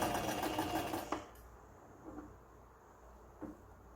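A sewing machine stitches a jumper pocket edge folded over by 5 mm. It gives a steady, close whirring run for about a second, then stops, leaving quiet room tone with a couple of faint clicks.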